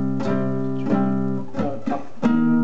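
Acoustic guitar strumming the chord pattern of a song: a few quick down-and-up strums ringing out, close and clear with no talking.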